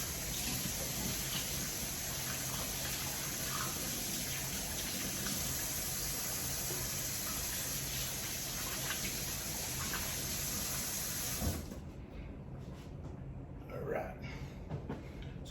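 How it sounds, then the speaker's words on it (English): Tap water runs steadily while hands are rinsed during Instant Pot oxtail prep, a broad, even rush at close range that cuts off abruptly after about eleven seconds, followed by quieter kitchen handling sounds. "rinse my hands."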